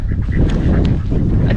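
Indian runner ducks, one a molting male, give loud, close, continuous honking quacks with a dense, overlapping flock-like texture throughout.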